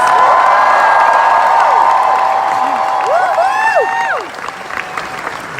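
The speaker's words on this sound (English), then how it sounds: "Let's give them another huge round of applause" Comic-Con crowd applauding and cheering for the newly assembled Doctor Who team, a loud, dense roar of clapping with whoops and whistling rising above it before it begins to fade.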